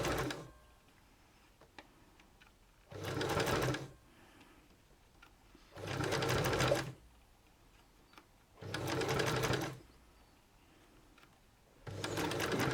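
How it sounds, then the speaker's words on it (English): A sewing machine stitches fabric ruffles in four loud, close bursts of rapid mechanical whirring, each lasting about a second, with quiet pauses between them. "So to finish off, I'm just going to back stitch a little."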